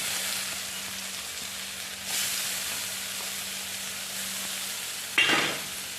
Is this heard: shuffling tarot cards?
no